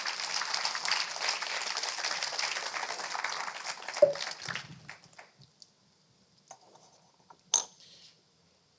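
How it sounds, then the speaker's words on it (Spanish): A church congregation applauds the Lord in a dense, steady burst of clapping that stops abruptly after about four seconds, leaving near silence broken by a few faint clicks and knocks. "darle un aplauso al Señor"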